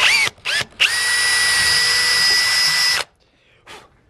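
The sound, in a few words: power drill drilling into goat skull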